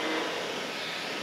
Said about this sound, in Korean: 다이슨 드라이기를 이렇게 딱 이렇게 잡고